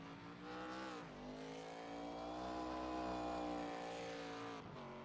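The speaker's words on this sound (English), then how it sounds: "Aiden Norman with the celebration, with the donut in Spoon" Race car doing a celebratory donut at Spoon corner, Suzuka Circuit, in iRacing: a sustained high engine note with wavering pitch and tire squeal, steady and moderately loud without speech.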